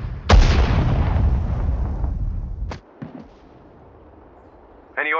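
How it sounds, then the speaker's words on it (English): A single heavy artillery blast in the WWII strategy game Sudden Strike 4, booming loudly with a long rumbling decay, followed by a sharp crack and a faint distant report. "Artillery, fire!"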